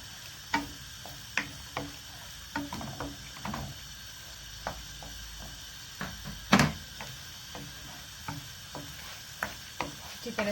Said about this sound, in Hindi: अच्छी तरह से इसको ऑयल के साथ भून लें